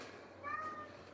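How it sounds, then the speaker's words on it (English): Domestic cat giving a single short, faint meow indoors, with no talking over it. "Okay, meows a lot bear."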